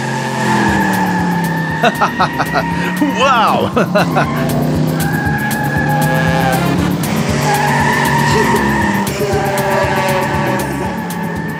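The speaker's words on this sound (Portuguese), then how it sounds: "Um carro invisível! Isso sim é divertido!" Cartoon car in a Pocoyo animated episode zooming about with loud, repeated tire squeals and skids over revving motor effects, while a cheerful voice and a short exclamation are heard above it.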